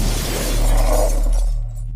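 A window blown apart by a rifle shot inside a house, glass bursting into a loud, dense shatter that rings on for over a second before tinkling off into quiet, with no voices.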